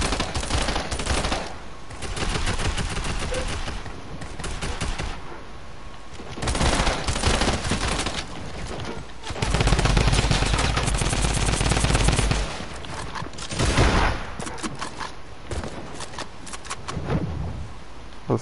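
Gunfire in the video game Fortnite comes in loud, close bursts of rapid automatic shots and single cracks, broken by short pauses, with no talk over it.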